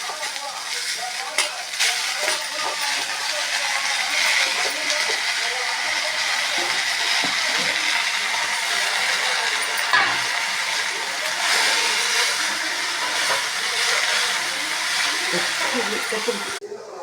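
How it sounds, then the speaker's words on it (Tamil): Mint, coriander and curry leaves hiss and sizzle steadily in a hot pan for mint thuvayal, with a broad frying noise throughout. "இப்போ புதினா கொத்தமல்லி கறிவேப்பிலை போட்டு வதக்க போகிறேன்"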